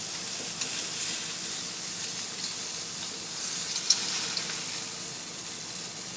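Sausage frying in a pan for a breakfast sandwich gives a steady, even sizzle that runs through the whole stretch, with no talking over it.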